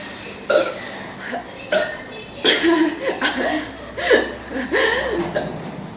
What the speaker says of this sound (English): I will have the loudest burp